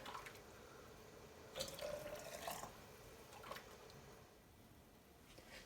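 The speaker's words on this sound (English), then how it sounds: "You want to fill these with hot water." Hot water pours and splashes in short bursts, trickling into canning jars of pinto beans nearby, fairly quiet against a soft background hiss.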